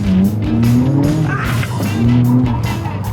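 A supercar corners under throttle with its tires squealing in two drawn-out bursts over a loud engine roar, close to the listener.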